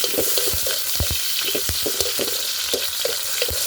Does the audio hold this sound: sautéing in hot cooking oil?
yes